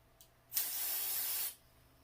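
A single close hiss of TRESemmé hairspray from a large aerosol can, sprayed onto a brow spoolie, lasts about one second and stops abruptly, with a faint click just before it.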